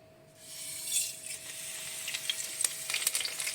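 Cumin, carom seeds, curry leaves and fenugreek hit hot oil, and a sizzle swells within the first second into a crackling, spitting fry with scattered sharp pops, close and alone.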